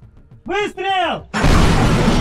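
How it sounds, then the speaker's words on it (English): An artillery shot firing in the war in Ukraine, heard as one loud, sudden blast that cuts in after a voice and leaves a sustained broadband roar to the end. "Выстрел!"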